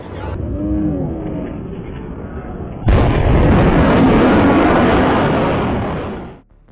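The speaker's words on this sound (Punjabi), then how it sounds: "ਉਹ ਸੋਨਿਕ ਬੂਮ ਕਿਹਾ ਜਾਂਦਾ ਉਹ ਬਲਾਸਟ ਇੰਨਾ ਤਕੜਾ ਹੁੰਦਾ" A low lowing tone fades out, then a sudden deep sonic boom from a supersonic aircraft over Patiala erupts and rumbles loudly for several seconds before cutting off.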